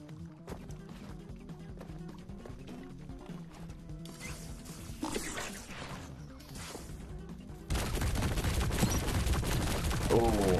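Gunfire in the alien shooter game High on Life comes as bursts of rapid shots and smashing impacts, rising to a dense, louder volley near the end while someone talks over it.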